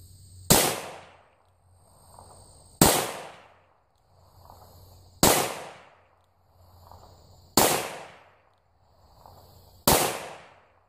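A .357 Magnum revolver firing light handloads of Clay Dot shotgun powder under 126-grain Lyman cast bullets, five sharp loud shots spaced about two seconds apart, each with a brief decaying echo, no talking.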